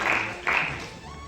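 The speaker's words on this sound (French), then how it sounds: "Merci, on l'applaudit encore." Audience applause at a town hall awards ceremony honoring recipients: a dense wash of many hands clapping that swells twice in quick succession, moderately close and fairly loud, then thins out over a brief moment.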